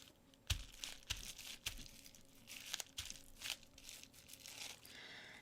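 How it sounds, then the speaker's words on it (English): Bubble wrap inked with Distress Oxide is pressed and peeled against paper, giving close crinkling and crackling bursts in an irregular rhythm, loud against a quiet room with no talk. "just use Distress Oxide ink on some bubble wrap and just stamp bubble wrap onto your piece of paper"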